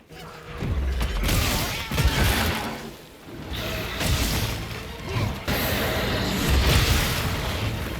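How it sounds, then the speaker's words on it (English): Small explosions in Monster Hunter Wilds gameplay, a dense run of crashing bursts and whacks layered over continuous combat noise, loud and close throughout. "Keeps making these little explosions."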